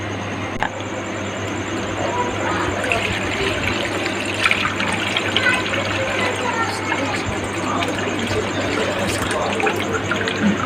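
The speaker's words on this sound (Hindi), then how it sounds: "अब हम इसको ग्राइंड करके सारा मिक्स कर लेते हैं।" A grinder blends a sweet and sour tamarind water mixture with brown sugar, a loud continuous churning whir and sloshing that holds steady throughout.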